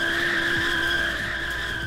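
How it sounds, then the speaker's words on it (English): A car in a Roblox driving game does a burnout, its tires letting out a loud, sustained squeal over a droning engine, with no break for the whole moment. "Can it do a burnout, though? Oh, it can!"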